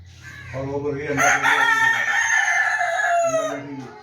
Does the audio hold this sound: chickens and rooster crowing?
yes